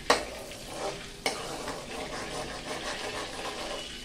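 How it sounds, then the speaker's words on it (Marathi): Butter melts and sizzles in a hot kadhai, a steady frying hiss with sharp clinks of a utensil at the start and again near the middle, close and clear. "असं गरम कढईला बाजूनी बटर फिरवलं की ते पटकन मेल्ट होतं"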